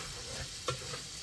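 An Indian tempering of spices in oil sizzles softly in a pan while it is stirred, a short steady fry with one small scrape partway through.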